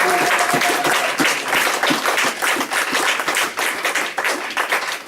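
A church congregation applauding at a Sunday service, dense continuous clapping from many hands filling the room at full volume from start to finish.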